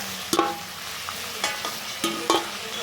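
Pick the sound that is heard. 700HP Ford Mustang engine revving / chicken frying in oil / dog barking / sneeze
chicken frying in oil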